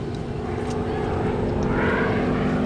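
A North American T-6 Texan propeller aircraft flies at an airshow, giving a steady, loud engine drone that holds without a break throughout, with no voices heard.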